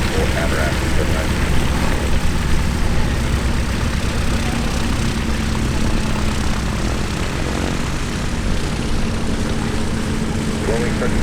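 A homebuilt aircraft at EAA AirVenture Oshkosh 2025 runs its engine as a loud, constant propeller drone with no break, mixed with radio voices talking.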